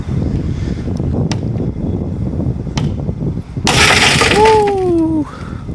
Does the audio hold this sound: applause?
no